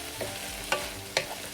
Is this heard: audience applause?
no